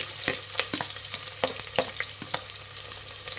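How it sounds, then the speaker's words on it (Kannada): Long-cut onions frying in oil with fennel and caraway for avarekalu (lima bean) rice bath: a constant hot sizzle up close, with sharp pops and crackles scattered through it. "ಒಂದು 2 ಈರುಳ್ಳಿ ಹಾಕ್ತಾಯಿದ್ದೀನಿ"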